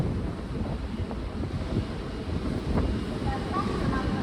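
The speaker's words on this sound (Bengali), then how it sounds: "আমাদের ট্রেনটা প্রচন্ড হাওয়া আসছে, প্রচন্ড হাওয়া" Strong wind roars steadily into the microphone with a low rumbling buffet from a moving train.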